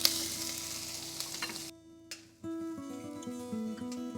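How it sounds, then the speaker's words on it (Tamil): Ginger garlic paste sautéing with mustard seeds, fennel and curry leaves for an eggplant sambal, a soft continuous sizzle with occasional stirring scrapes, fairly faint and close, with tonal music underneath and a brief pause midway. "இப்போ நம்ம குத்தி வச்ச இஞ்சி, பூண்டு, கடுகு, சோம்பு அது 4தோட விழுதையும் போட்டு நல்லா வதக்கிக்கலாம்"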